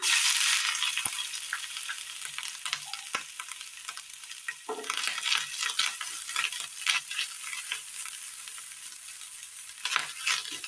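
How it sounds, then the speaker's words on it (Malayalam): Grated coconut fries in hot oil in a pan, a constant close sizzle with scattered scraping and crackling from stirring throughout, and no voices. "ചൂടായ എണ്ണയിലേക്ക് തേങ്ങ തിരുമിയത് ഇട്ട് കൊടുക്കാം"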